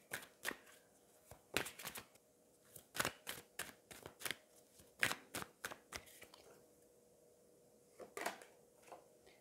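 Oracle cards being shuffled by hand, a run of crisp, quiet riffling bursts and soft slaps in an uneven rhythm, heard close with no talk.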